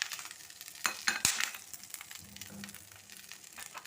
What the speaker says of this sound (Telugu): ఇప్పుడు కరివేపాకు కూడా వేసేయండి